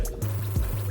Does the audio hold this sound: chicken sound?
no